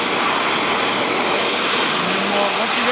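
A brazing torch roars steadily and loudly while heating a belt sander for repair, a continuous broadband rushing hiss without pauses.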